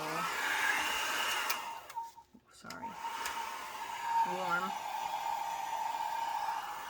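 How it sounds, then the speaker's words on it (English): A Revlon hair dryer running on its low setting, a steady whirring blow that dips briefly midway, with a few quiet spoken words over it, drying an alcohol ink ornament. "so I'm going to take this dryer. It's a Revlon dryer. I'm going to put it on low."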